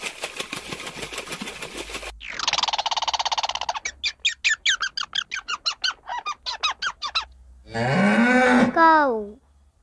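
After a run of buzzy, rapid clicking calls, a cow gives one long, loud moo near the end.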